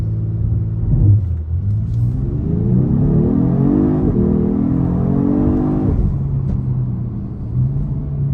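A Genesis G70 engine revs hard and accelerates at full throttle from a launch, its pitch climbing steadily before dropping back to a low idle rumble; loud and close, on a hot day.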